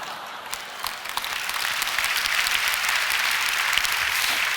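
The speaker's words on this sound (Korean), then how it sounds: "웃으면서 박수 치는 게 안 믿어지는 것 같은데" A church congregation at a prayer-meeting sermon breaks into broad, steady applause that swells and holds, crowd noise filling the room without clear speech.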